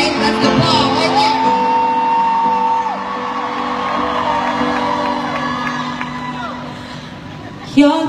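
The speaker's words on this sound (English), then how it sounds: "Let's applaud right there." Large concert crowd at a show cheering and whooping, a loud sustained roar with shouts and high whistles rising above it, a sharp burst near the end.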